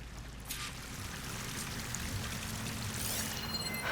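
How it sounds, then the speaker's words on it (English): Steady rushing water from a waterfall in the video game Horizon Forbidden West, a continuous broadband roar with splashing texture that holds evenly throughout and swells slightly toward the end, with no voices. "That waterfall must be coming from somewhere."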